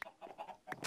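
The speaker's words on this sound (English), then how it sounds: "Why is there so many chickens down here?" Chickens cluck in a video game, a few short clucks spread across under a second, fairly close and moderately loud with no talk over them.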